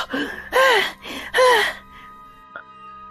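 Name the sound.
heavy panting after running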